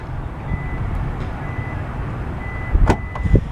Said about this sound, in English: You can hear it chimes a few times, then the trunk automatically pops.